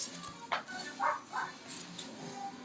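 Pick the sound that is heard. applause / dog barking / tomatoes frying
dog barking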